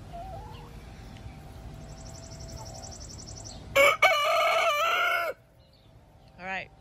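A rooster crows loudly and close by in a farmyard during a first integration with a dog, a sharp strained cock-a-doodle-doo lasting over a second, with quieter bird calls and faint background noise around it.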